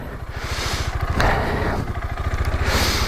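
KTM 390 Adventure single-cylinder motorcycle on a UK trail, its engine revving hard as the rear wheel spins without traction, a close, steady throbbing drone rising and falling over a few seconds, with no speech.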